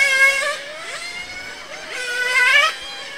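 A small RC race car at a club Grand Prix race with transmission trouble, its motor whining loudly with rising and falling pitch as it accelerates, sagging and then surging back in.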